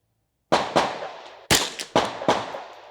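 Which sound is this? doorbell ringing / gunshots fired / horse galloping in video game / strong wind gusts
gunshots fired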